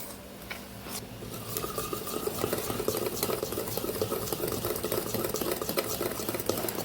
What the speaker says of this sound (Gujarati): સરસ આપણે મિલ્ક પાવડરને મિક્સ કરી લેશું એટલે ગાંઠી ન પડી જાય